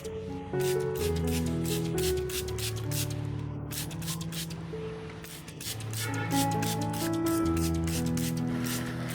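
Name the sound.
spray bottle misting plant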